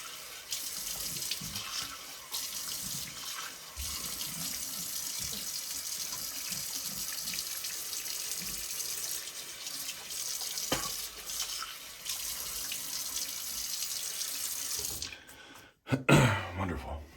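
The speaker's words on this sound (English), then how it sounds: "Cold water rinse." A tap runs cold water into a sink for a rinse during a wet shave, a steady hiss of flowing water for about fifteen seconds before it shuts off, followed by a few brief splashes.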